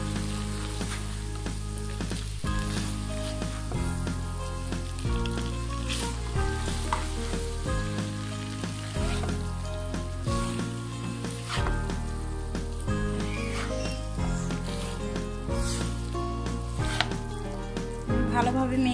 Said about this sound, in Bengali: এবার নুডলসটা আমি মিক্স করে নিচ্ছি।